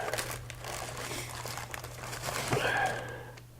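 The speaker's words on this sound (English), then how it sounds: "if any of you have never ground up graham crackers in a plastic bag, you just take a plastic bag" Plastic bag crinkles and crunches as graham crackers inside are handled and crushed for a cheesecake crust, a close sharp rustle near the end over a steady low hum.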